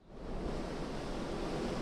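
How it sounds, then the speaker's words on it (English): Wind-driven storm waves crash over a seawall in Marshfield, Massachusetts, during a winter storm, a steady, loud roar of surf and spray that builds in the first moments and then holds without a break. "Wind-blown waves crashing over a seawall in Marshfield, Massachusetts."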